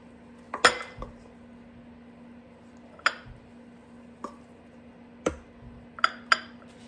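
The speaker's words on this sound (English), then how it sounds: "So I'm just gonna scoop some into each container." Rice is scooped into meal prep containers in a quiet kitchen: a handful of sparse, separate clinks and taps of a utensil against plastic and dishware, spread irregularly with a low steady hum underneath.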